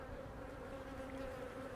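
Honey bees swarm out of an opened beehive during a honey harvest, a steady close buzzing drone that holds without a break, with no voices over it.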